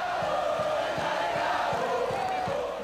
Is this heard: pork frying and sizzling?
no